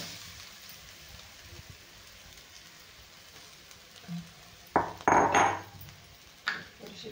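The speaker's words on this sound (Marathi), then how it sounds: "तर हे बटाटा चांगला आपल्याला मिक्स करून घ्यायचा आहे" Mashed potatoes are stirred with spices and turmeric in a pan, a spoon scraping and clinking against the metal in a few sharp knocks near the end over a quiet background.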